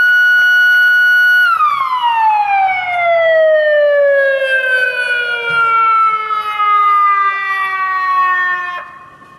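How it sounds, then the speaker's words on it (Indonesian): Siren switched on with a button to set off a Christmas procession in North Tapanuli: one loud, close, wailing tone that holds steady, then slowly winds down in pitch over several seconds before fading out. "menekan tombol sirene sekaligus memberangkatkan barisan prosesi"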